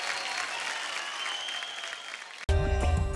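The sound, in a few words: audience applause for Harshit and Priti Bhattacharya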